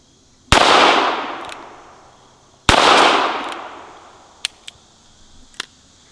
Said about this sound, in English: Let's shoot something bigger, like the propane tank.